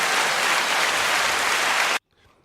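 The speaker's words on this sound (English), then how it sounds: "Could you do the applause button for Sarah right now?" An applause sound-effect button plays about two seconds of dense recorded clapping and cheering at full volume, then cuts off abruptly into near silence.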